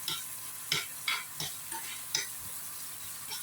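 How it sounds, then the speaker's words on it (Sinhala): Curry vegetables, salt and curry leaves tempering in butter in a pan for a vegetable egg roti, a soft steady sizzle broken by several sharp stirring scrapes and clinks, close and alone. "බටර් එක පොඩ්ඩක් මම මේක ටෙම්පර් කරගන්නවා"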